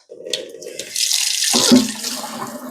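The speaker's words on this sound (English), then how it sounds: "I'm going to cheat because I have one of these little spray shower head type of deals." Water from a sink's small spray shower head runs onto trays of onion seedlings: a brief splash and trickle, then a steady, close hiss of spray that swells and continues, with no talking.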